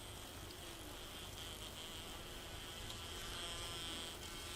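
Hornets buzzing in 7 Days to Die, a faint, steady insect drone that hums continuously in the background with slight swells, alone without talk.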